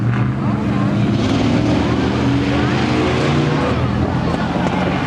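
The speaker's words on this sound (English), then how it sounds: "This guy's gonna do a 360. I guess he's warming up his tires" NASCAR race car at Seekonk Speedway spinning its tires through a 360 to warm them, a loud, continuous engine roar with harmonics holding steady, heard from the stands.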